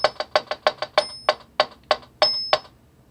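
Sharp metronome-style clicks repeat at a quick steady pulse, some accented louder with a ringing tone, alone without any voices.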